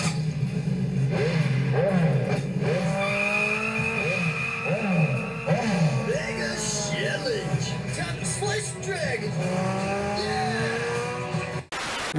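Raphael's motorcycle from TMNT The Next Mutation runs continuously with a wavering engine note, overlaid by repeated squealing, chirping tones, and cuts off abruptly at the end.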